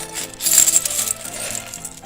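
Metal game coins dropped close to the microphone, giving a bright clattering jingle that peaks early and then settles into lighter rattling over about two seconds.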